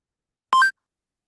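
Notification beep from a laptop: a short, clean two-tone electronic chime, the first tone lower and the second stepping higher, loud and isolated against silence.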